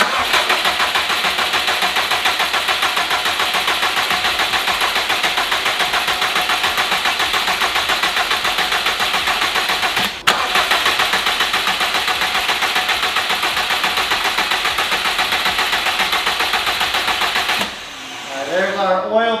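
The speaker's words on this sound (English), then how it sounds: "I'm gonna crank her over until we have oil pressure" A 2015 Subaru WRX STI engine cranks over steadily and loudly for about eighteen seconds in a continuous drone with one brief hitch midway, then stops abruptly as a voice begins speaking.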